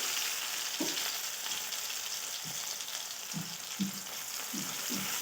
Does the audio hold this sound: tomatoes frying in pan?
yes